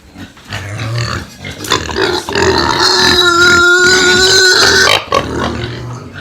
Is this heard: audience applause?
no